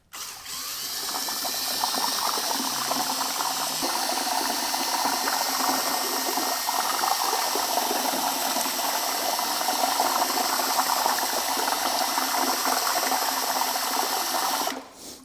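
Plaster stirred vigorously by hand in water makes a steady, busy scraping and sloshing churn, close and sustained for about fifteen seconds, then stopping abruptly.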